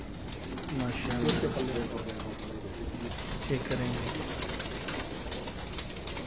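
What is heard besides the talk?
faqir gul pigeons cooing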